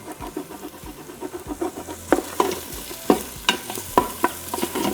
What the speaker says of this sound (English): make sure that you don't stop scraping so that you remove all of the burn bits